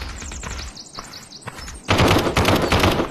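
In the VR shooter Aim XR, gunfire rattles in quick bursts, first lighter rapid shots and then a loud, dense burst of automatic fire that fills the second half.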